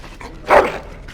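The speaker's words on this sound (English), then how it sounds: "Bloody dog." A dog in the game Dragon Age Origins gives a single short, close whimpering bark, rising briefly and then trailing off over quiet ambience.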